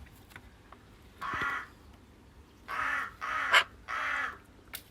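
Crow cawing near its nest in a series of harsh, loud calls, one short burst followed by a quick cluster of three more, against quiet background.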